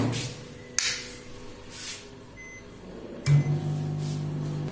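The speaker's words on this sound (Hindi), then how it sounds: "ओवर में गर्म कर लेते हैं पानी" A microwave oven heats a small amount of water, with a steady low hum starting partway through after a click and some faint handling sounds, close and without speech.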